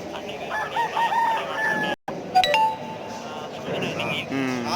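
A rooster among native chickens crows loudly in a farmyard while hens cluck and scratch through dust baths, with a voice talking over the scene and brief electronic chime-like tones.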